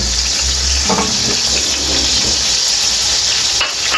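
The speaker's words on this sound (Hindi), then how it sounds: "ये आधी प्याली मैंने इसके अंदर ऑयल डाल दिया। अब जाएगा सबसे पहले प्याज।" Onion frying in about half a cup of hot oil in a pan for an aloo matar moongray vegetable dish, a steady loud sizzle with a few soft stirring clatters, no voices.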